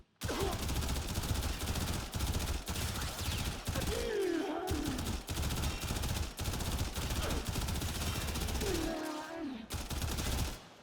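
Dense, sustained automatic gunfire from a primary weapon in Warframe, firing against corrupted heavy gunners, with rapid continuous bursts broken by brief pauses and occasional whooshing effects.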